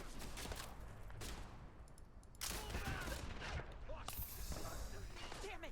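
Gunfire in the video game Starfield erupts in rapid, dense bursts of shots that stop, then resume, loud and close, with game voices mixed in.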